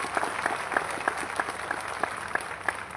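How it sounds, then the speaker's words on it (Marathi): A crowd at a public political gathering claps in welcome, a moderately distant, steady patter of applause with a regular beat running throughout. "आपण एकदा पवार साहेबांचं टाळ्या वाजून या ठिकाणी स्वागत करा."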